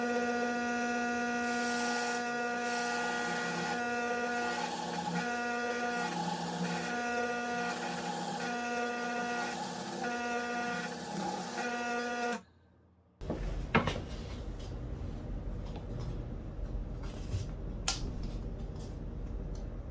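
A power drill whirs steadily and loudly for about twelve seconds with a humming whine while drilling test holes in MDF, cuts off abruptly, then faint clatter and rustling follow.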